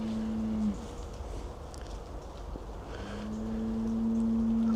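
A cow or bull moos outdoors on a misty morning walk, giving two long, low, drawn-out calls from a moderate distance over soft wind noise.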